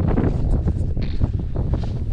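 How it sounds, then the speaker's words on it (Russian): Strong wind buffets the microphone continuously, a loud rumbling roar with gusty fluctuations throughout. "сейчас ветер сильный"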